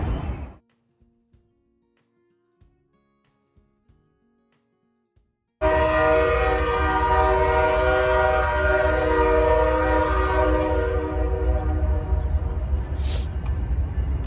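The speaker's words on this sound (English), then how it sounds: "I don't think you can see the train from where I am." A train rumbles loudly past in Durham, North Carolina after a few seconds of near silence, with a steady roar and blaring horn-like tones continuing to the end.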